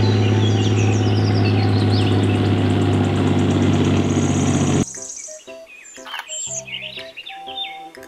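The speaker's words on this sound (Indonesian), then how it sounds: "Mobil tank baja." A toy steel tank gives a loud, steady engine rumble with heavy low harmonics for several seconds, then cuts off, leaving scattered bird chirps and tweets.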